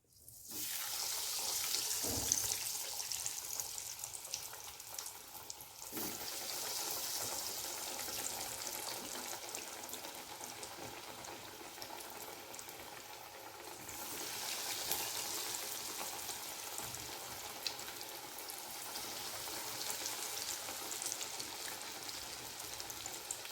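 Vegetable chops deep-frying in hot oil, a loud continuous bubbling sizzle that runs steadily throughout, swelling slightly in places, with a few faint clinks.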